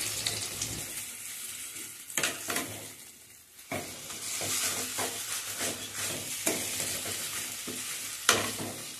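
A mixture for ichor finger (taro-leaf fritters) is stirred in hot oil in a wok, giving a steady close sizzle of frying with scraping and clattering stirs that come in uneven bursts, with no talking.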